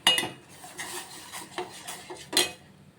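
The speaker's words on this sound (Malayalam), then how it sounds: "ഇനി ഇത് ഇളക്കി കൊടുക്കാം." A spoon clinks and scrapes against a metal pot while stirring tea with cardamom and cloves, a few close, irregular metallic taps and scrapes.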